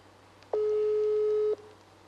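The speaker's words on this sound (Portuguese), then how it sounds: "Agora eu vou ligar para ela para ver o que ela vai nos dizer" A telephone ringback tone while a call is being placed: one steady electronic tone lasting about a second, clear and alone against faint line hiss.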